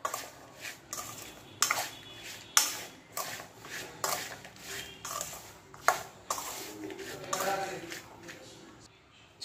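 Raw mango pieces tossed with salt and turmeric in a bowl give soft, irregular clinks and wet scrapes, close and quiet, recurring every half second or so.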